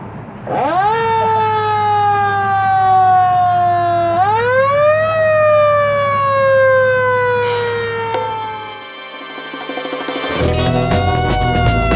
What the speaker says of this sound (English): Okay, here's some siren. Ready for the sirens?